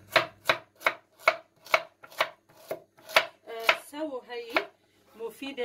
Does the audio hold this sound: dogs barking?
no